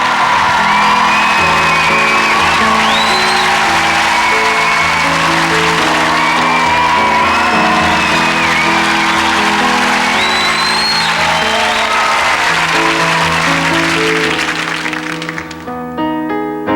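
A theatre audience in London claps and whoops loudly for a singer, with shouts rising over sustained applause and music playing underneath. The cheering continues for about fifteen seconds, then cuts off abruptly.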